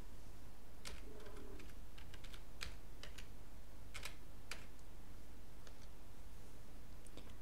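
Keys tapped on a computer keyboard in irregular bursts of light clicks, typing a campaign title into an affiliate marketing form, fairly faint over a steady background hum.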